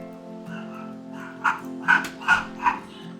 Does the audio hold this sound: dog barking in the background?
yes